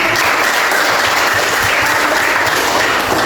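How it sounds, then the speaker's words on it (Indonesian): A classroom of students applauds together, loud dense clapping filling the room steadily and without pause, with no talk over it. "Luar biasa, tepuk tangan"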